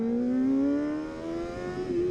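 A 2023 Kawasaki Ninja ZX4RR motorcycle engine revs steadily upward, a loud, close, smooth rising whine with rich harmonics, heard alone.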